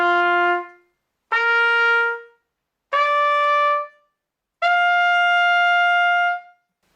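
A trumpet plays four sustained tones, each about a second long with brief gaps between them, stepping upward from a low to a higher register. The notes are clear, loud and bright, with no voice over them.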